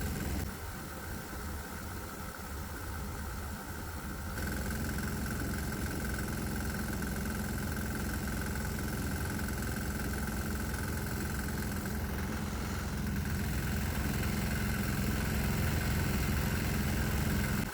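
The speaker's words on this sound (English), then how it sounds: "this engine runs a lot better with propane, but the knock gets a little worse" A diesel engine runs on a propane vaporizer with a steady, dense idling drone and vibration, rising slightly in intensity partway through, with a knock buried in the continuous running.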